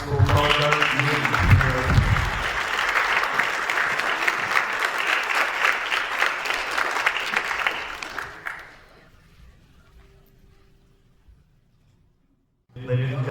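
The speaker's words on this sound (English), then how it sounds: "Please give a round of applause to the high school program meeting." Audience applause at the grand opening of a museum at the Nixon Foundation and Library, a loud sustained crowd of clapping for about eight seconds that fades out, followed by near silence.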